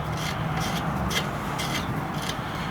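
Wheel studs are threaded by hand into the hub of a BMW E36, a close, quiet rhythmic scraping and rubbing that repeats in short strokes.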